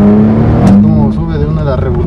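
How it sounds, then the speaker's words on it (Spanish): A Hyundai Tuscani V6 engine revs loudly and close by, with a steady rumbling drone and a sharp rise partway through, while someone talks over it. "en este momento estamos probando el Renault, si tiene un buen torque el auto para hacer un motor V6"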